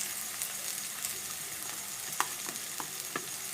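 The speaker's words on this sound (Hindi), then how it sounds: "कैप्सिकम डाल देते हैं और साथ ही हम इसमें गाजर डाल रहे हैं। इन सबको हम अच्छे से फ्राई कर लेंगे।" Capsicum and carrots fry in a pan for a wheat flour pasta dish, making a continuous soft hiss with a few sharp clicks and pops near the end.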